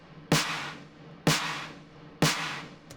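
Three boosted claps layered with a snare tail for a progressive house track hit at an even, steady pace, each a sharp crack that decays into a short washy tail, with a faint fourth hit cut off at the end.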